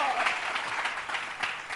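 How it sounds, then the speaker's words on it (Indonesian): Church congregation clapping hands at an Indonesian fasting prayer service, a steady wash of applause over the whole stretch with a voice carrying on above it. "Tepuk tangan, haleluya."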